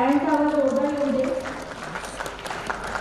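An audience at an environmental conference award ceremony breaks into applause, a dense patter of clapping that follows a brief stretch of someone speaking.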